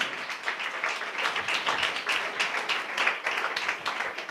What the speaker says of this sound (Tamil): நல்ல 2 கைத்தட்டி ஆண்டவருக்கு நன்றி சொல்லுங்க